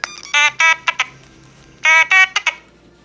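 Electronic beeps from a sound font in a custom Mandalorian blaster prop come in two clipped bursts of rapid chirpy tones separated by a short pause, loud and close with no talk.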